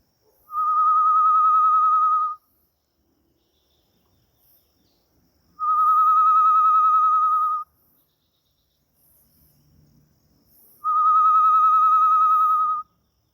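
A macuco (solitary tinamou) call blown on a hand-held bird whistle with the mouth covered: three long, steady, clear whistled notes spaced evenly a few seconds apart, close and loud, imitating the female's long call, with near silence between.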